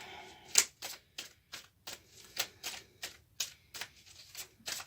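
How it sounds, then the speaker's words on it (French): Oracle cards drawn one by one from a deck during a reading, a series of about a dozen short, crisp snaps and slaps of card stock at a steady, close-up rhythm with no talking. "J'ai l'archange Michael qui me guide, qui me dit de prendre 3 cartes"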